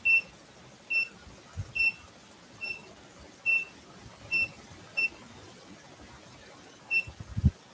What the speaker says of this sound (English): if there's movement of any sort, an alarm goes off.